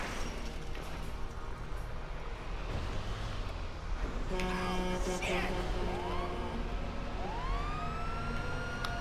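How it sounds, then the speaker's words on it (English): A police siren wails in Grand Theft Auto V, rising and falling over busy, loud game sounds of traffic and engine noise, growing clearer in the second half. "Whoop, whoop, it's the sound of the police."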